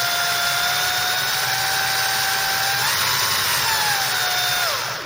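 Electric drill running at a steady, moderate speed, apparently during a Ford Cortina Mk3 restoration. The whine is loud and continuous, shifts pitch slightly partway through and cuts off at the end, with no talking.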